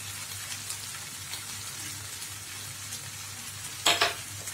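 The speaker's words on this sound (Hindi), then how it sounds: "अब इसको अच्छे से मिला ले।" Steady sizzle of jackfruit curry frying in a pan as salt is stirred in, with soft scraping stir strokes throughout and a brief louder clatter near the end; no talking.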